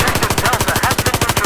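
Rapid automatic gunfire in Battlefield 4 on the Hangar 21 map, a loud, steady stream of close shots firing at an even rhythm with no pauses.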